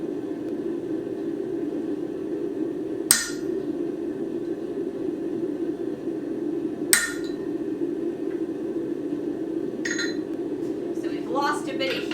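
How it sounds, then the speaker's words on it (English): Blacksmith's hammer strikes a punch on hot metal in a workshop, two sharp ringing blows about four seconds apart over a steady background hum, followed by a few lighter clinks near the end. "Picking up our punch every hammer blow to make sure that we've placed it exactly"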